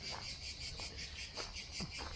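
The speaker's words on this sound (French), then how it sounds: "On appelle ça le chant des cigales." Cicadas in summer, a dense shrill buzzing chorus that pulses in quick regular waves, steady and fairly close, with no voices over it.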